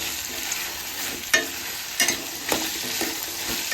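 Chopped ridge gourd with garlic and cumin frying on a medium flame, a steady close sizzle broken by several sharp stirring scrapes against the pan.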